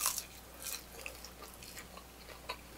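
Crunchy breaded fries being chewed up close, with soft repeated bites and crunches spread across a short stretch, fairly quiet and with no talking.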